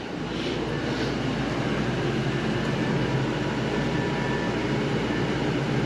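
Steady, loud broadband rush of dash air conditioning blowing cold inside a 2015 Fleetwood Storm 28MS gas mini Class A motorhome, a constant whoosh with a low hum beneath, continuous throughout with no talking.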